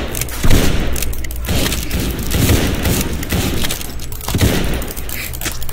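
M1 Garand rifle gunfire in the Arsenal video game, a dense, continuous barrage of loud overlapping shots and booms with no talking.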